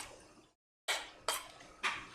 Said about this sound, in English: Gonna give these bad boys a stir.